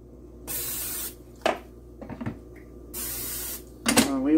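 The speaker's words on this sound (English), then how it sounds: "I'm supposed to spray some cooking spray on it" Cooking spray hisses onto an egg sandwich maker in two short, close bursts. Light clicks and handling knocks come between and after the bursts.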